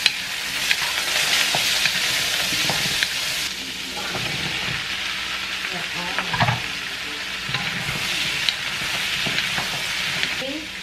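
Chopped onion sizzles and crackles steadily in hot oil in a home kitchen pan, with periodic stirring scrapes and clinks breaking through the close, continuous fry.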